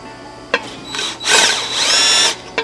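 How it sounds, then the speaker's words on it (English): A power drill with a tapering bit whirs in two short bursts and then a longer high-pitched run, with a few sharp clicks between, loud and close. "we have come to the power tools, the little tapering bit"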